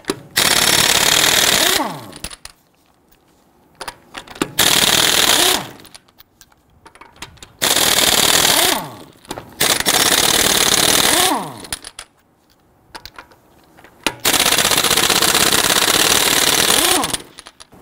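A power tool with a 19mm socket rattles lug nuts loose from the driver's side front wheel of a Ford Explorer, in several loud hammering bursts of one to three seconds separated by short quiet pauses.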